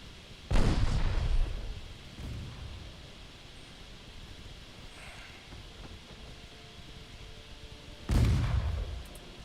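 Big naval guns on a French warship fire in Ultimate Admiral Dreadnoughts, two deep booming salvos several seconds apart, each followed by a rumbling decay, with a softer distant thud between them.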